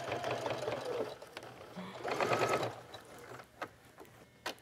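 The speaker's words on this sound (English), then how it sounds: "So this sewing machine works great for going over all those bumps." A sewing machine stitches through a layered fabric card wallet, a steady mechanical whirring run with rhythmic needle clatter, then a pause and a few sharp clicks as the stitching stops.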